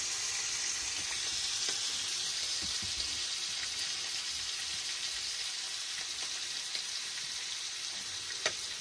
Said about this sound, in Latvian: Un tagad, kad šeit jau garainīši mums nāk augšā, jau no sviesta, tad mēs liekam steika blāķīt.